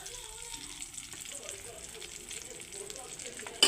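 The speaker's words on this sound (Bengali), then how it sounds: "কড়াইয়ে তেল গরম হয়ে গেছে এখন ফোড়নে দিয়ে দিচ্ছি লঙ্কা আর তেজপাতা" Chili and bay leaf tempering crackling in hot oil in a kadai, a faint steady sizzle with light pops, ending in a sharp clatter.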